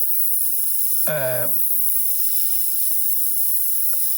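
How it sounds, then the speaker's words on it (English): An airbrush lays candy paint over the black-shaded areas of a miniature car hood, giving a steady, close hiss throughout with a brief voiced sound partway through. "Okay, so I'm just spraying on the shaded areas, the dark areas that are with black."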